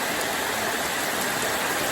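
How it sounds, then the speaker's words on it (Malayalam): Steady summer rain pouring down outdoors, a dense, even hiss of falling water with no breaks, moderately loud and close, with no voices. "ഇന്ന് നമ്മുടെ നാട്ടിലെ വേനൽ മഴ"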